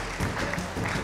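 Audience applause for five real estate management professionals at the Pierre d'Or Manager awards ceremony, a brief burst of many hands clapping in a hall, moderately loud and continuous.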